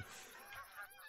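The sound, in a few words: geese honking in theHunter: Call of the Wild video game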